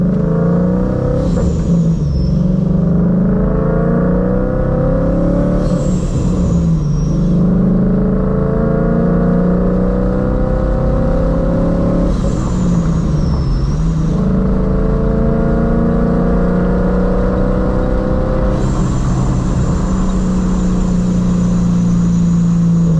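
A Ford Mustang S197 fitted with a Paxton Novi 2200 supercharger revs up four times over a steady idle, each rise bringing a rising supercharger whine before settling back, loud and close with no talking.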